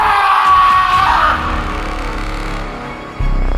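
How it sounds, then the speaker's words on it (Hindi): A man screams loudly in fright in a horror story, a sustained harsh yell that fades, then a low rumbling thud cuts in near the end. "वरुण जोर से चिल्लाया।"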